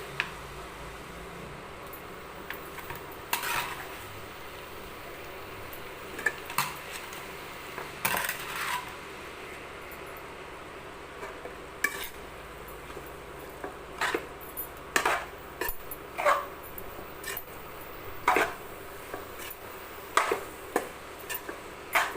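Ridge gourd stirred with tomatoes in a pan, a scattered run of sharp clinks and scrapes of a spoon against metal, close and fairly quiet, with no talk.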